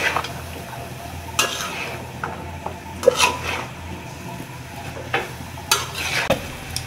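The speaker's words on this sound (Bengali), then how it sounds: "এখন আমি সবগুলি সবজি ভালো করে মিক্স করে নেব মশলার সাথে" Mixed winter vegetables, including turnip, being stirred with spices in a pan, with a spatula scraping and turning them in scattered strokes over a faint, low sizzle.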